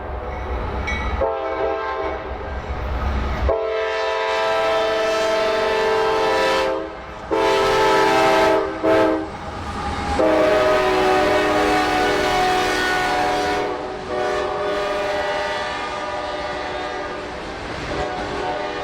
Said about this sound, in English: A southbound manifest rolled past the unique Folkston Water Tower a little while later with a great variety of rolling stock